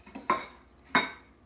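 A knife clinks twice against a dish while crackers are mixed with butter, two sharp metallic taps with short ringing tails and quiet between them.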